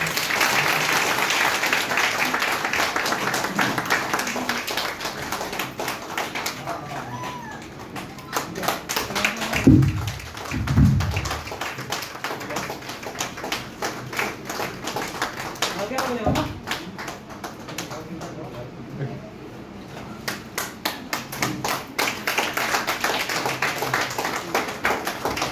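An audience claps during a felicitation ceremony on stage: a steady patter of hand claps runs for the whole stretch, swelling and thinning at times, with a voice and crowd chatter mixed in.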